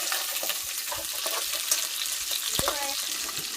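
Ginger frying in a hot pan with a steady broadband sizzle, broken by a few scraping stirs of a utensil and one sharp clink near the end.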